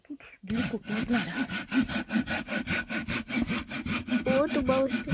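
A sharp hand saw cuts through wood outdoors, its steady back-and-forth rasping strokes close and loud, repeating rhythmically for several seconds, with a brief voice heard near the end.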